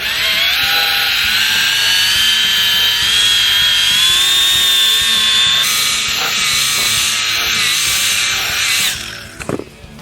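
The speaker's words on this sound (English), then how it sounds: "Quite a bit of pressure I'm putting on this as well because I'm kind of, I'm polishing." A power polisher buffing a surface under heavy pressure with compound, a loud continuous high whine shifting in pitch, winding down at the end.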